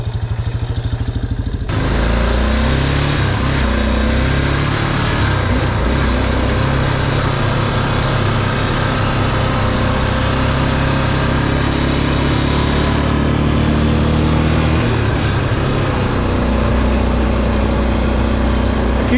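A vintage Honda Elsinore MR50 dirt bike's small engine runs steadily in low range, a loud, continuous buzzing drone with rising and falling revs, heard up close with no talking.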